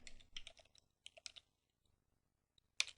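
Someone types a short command on a computer keyboard at a Linux terminal. Quick bursts of soft key clicks come close by, then a pause and one sharper final keystroke, like a press of Enter, with no talking.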